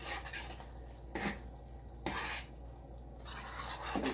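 Seafood butter sauce bubbling on a stovetop with a soft, continuous sizzle, broken by three or four spoon stirs and knocks against the pan, quiet and close.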